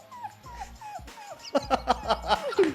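A woman imitates a small puppy with a series of high, nasal whimpers and yips, quiet at first and then growing into a quicker, louder run of cries up close.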